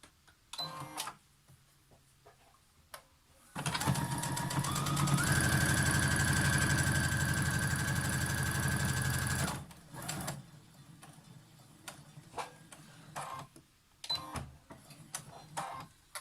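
Sewing machine top stitching close to the edge of a lined fabric face mask, a fast, even mechanical whir lasting about six seconds at close range, with quiet handling clicks and rustles before and after.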